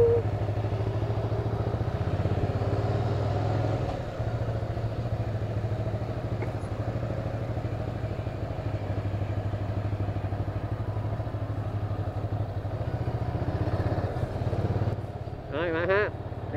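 A 2023 Ducati Scrambler Icon motorcycle idles steadily after starting, a loud low engine drone holding even throughout, with a few clatters near the end.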